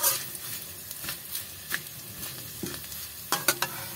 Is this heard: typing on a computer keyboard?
no